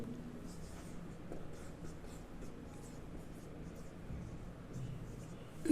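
Marker or chalk writing on a board during a mathematics lecture, with soft, faint scratchy strokes repeating irregularly in a quiet room.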